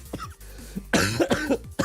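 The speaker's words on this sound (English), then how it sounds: "that was a laugh that turned into a cough" A sudden harsh cough bursting out after a laugh, with several rough hacking bursts close to the microphone over a faint background hum.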